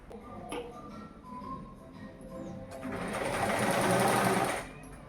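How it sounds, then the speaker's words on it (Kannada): Sewing machine stitching a seam on a blouse, a steady mechanical whir that runs in short bursts and then builds into a longer, louder continuous run before stopping, heard close up with light tapping and no talk. "ಈ ಲೈನು ಸ್ಟಿಚ್ ಹಾಕೊಳ್ತೀನಿ"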